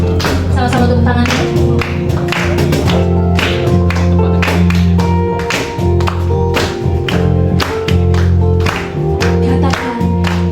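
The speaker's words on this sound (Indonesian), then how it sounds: "Sama-sama tepuk tangan." Church congregation clapping in a regular rhythm along with loud live worship music, the claps blending into the band's beat across the whole stretch.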